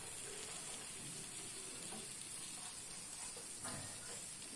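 Pieces of pastry dough frying in hot oil for honey-soaked treats, giving a steady faint sizzle and hiss throughout with small crackles, with no voice.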